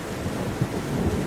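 A thunderstorm with heavy rain roars steadily, a dense wash of downpour with a low rumble of thunder swelling briefly partway through, and no voices.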